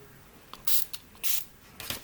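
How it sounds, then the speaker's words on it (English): A handheld spray bottle gives three quick, close hisses as it wets a paper towel with water. Quiet pauses separate the bursts. "I am going to spray my paper towel"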